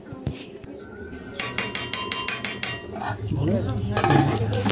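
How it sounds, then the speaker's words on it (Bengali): Puli pitha dumplings being stirred in a pot, utensil scraping and clinking against the metal in a quick run of regular strokes, then a softer bubbling simmer as cooking continues. "এই যে বারবার করে নাড়িয়ে নিচ্ছিলাম"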